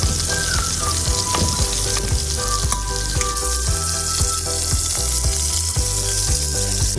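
A burger patty fries in a pan with a steady, loud, continuous sizzle and occasional soft pops and clicks of fat throughout, with no talking.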